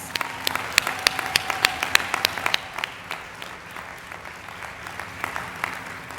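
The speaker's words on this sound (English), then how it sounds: "Let's give them another round of applause." An audience at a student academic excellence awards ceremony claps, sharp distinct claps standing out over a softer steady patter that thins toward the end.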